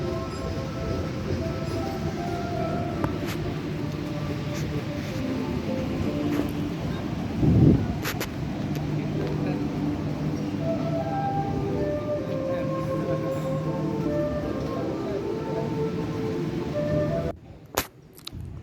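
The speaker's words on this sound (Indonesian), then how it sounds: "beginilah suasana di dalam peron stasiun Pekalongan" Ambience on a platform at Pekalongan train station in Indonesia, with a steady low rumble and hum, a few distant clanks and a brief louder surge midway, ending in an abrupt cut.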